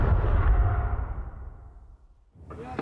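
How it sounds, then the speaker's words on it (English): War footage of Compound 71 in Afghanistan being destroyed: a heavy low explosion rumbles loudly and then fades away over about two seconds, followed by a fresh burst of noise at the very end. "This is the footage of Compound 71 being destroyed 2 weeks earlier."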